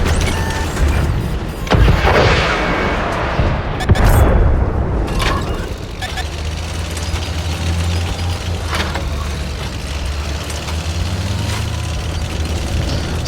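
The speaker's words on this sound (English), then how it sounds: "I see him pop out, I fire my rocket, he fires his." Rockets fire from an M3A1 Bradley in World of Tanks console, with heavy booming blasts and crashing impacts over a constant loud engine rumble, the big hits landing in the first few seconds.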